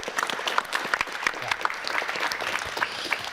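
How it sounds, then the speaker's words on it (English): An audience claps steadily, a dense patter of many hands at moderate volume, continuing without pause. "Let's give James a round of applause."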